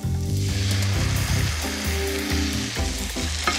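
Basting sauce hits a hot pan and sizzles loudly and continuously, with a bubbling hiss that holds steady to the end.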